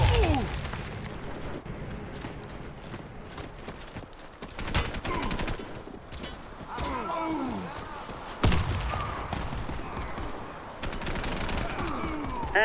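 Video-game combat with rapid gunfire bursts and heavy thumping blasts from a thrown grenade, loud and continuous with fluctuating intensity throughout.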